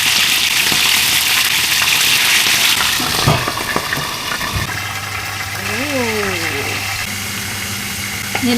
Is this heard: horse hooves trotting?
no